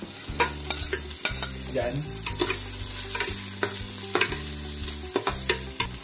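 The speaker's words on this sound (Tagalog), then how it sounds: "Magigisa muna tayo. Garlic." Garlic sizzles in a hot pan for Batangas-style goto with ox tripe and beef stomach, loud and steady, with repeated spatula scrapes and stirring knocks; one brief word is spoken.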